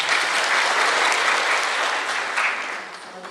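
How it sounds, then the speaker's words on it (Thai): An audience claps steadily to welcome a speaker at an agricultural seminar on Thai fruit trees, a dense, even round of applause that holds briefly and then starts to taper toward the end. "ขอเสียงปรบมือต้อนรับท่านดร. อากนิษฐาด้วยครับ"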